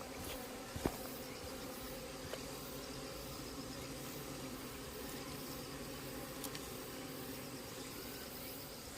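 Hornets buzz around beehives at an apiary, a continuous insect drone that stays steady and moderately faint throughout, with a couple of small clicks and no speech.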